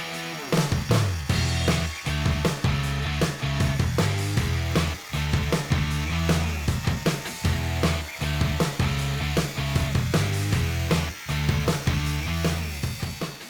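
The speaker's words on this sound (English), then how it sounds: "always making sure that as it's spinning, that you can feel that face holding or supporting the cut-off disc" Cut-off disc grinding louvers into a metal pedal car panel, a loud continuous whining grind with repeated short breaks and surges as each cut proceeds, close and alone without talking.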